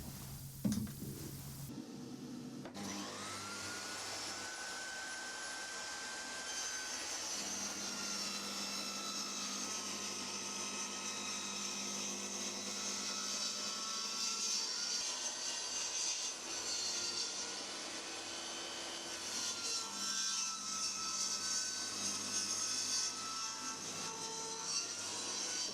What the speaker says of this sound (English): I'm going to get the blade tilted over to 30 degrees and rip